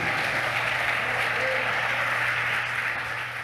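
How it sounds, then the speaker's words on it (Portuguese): Congregation in a church applauding, a dense steady wash of clapping held at an even loudness for several seconds, with a faint voice underneath and a low constant hum. "dê um forte aplauso para o Senhor"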